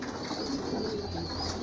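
Pigeons inside a pigeon loft, soft low cooing over a steady background hum, close and continuous.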